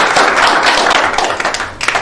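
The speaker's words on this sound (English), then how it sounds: "A big round of applause for Mr. Jacob." An audience claps and applauds together at a co-founders meet in Lagos, Nigeria: a dense, steady burst of many hands clapping close by, lasting about two seconds and thinning slightly toward the end.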